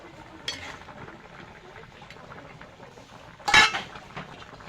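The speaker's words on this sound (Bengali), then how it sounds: "ঢাকনা তুলে একটু নাড়িয়ে দেব।" A lid clatters off a cooking pot of fish and green tomato curry, followed by a spoon scraping and stirring inside the pot. Two brief metallic clanks stand out over a low simmering background.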